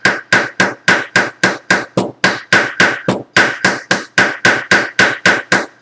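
A ball peen hammer strikes a metal post again and again, flattening and mushrooming it over a washer while an overnight bag is assembled. About twenty crisp, ringing metallic blows fall in a steady, even rhythm, loud and close, with no talking.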